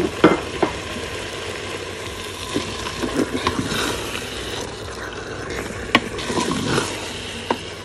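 Cut bell peppers hit hot oil in a Cookeo multicooker and sizzle steadily, with a spoon stirring and clattering against the pot throughout, close and fairly loud.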